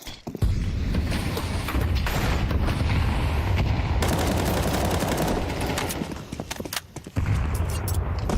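Rifle gunfire in the video game Counter-Strike during a competitive match: sustained rapid shooting and clattering bursts for several seconds, loud and continuous, briefly dropping off near the end before resuming.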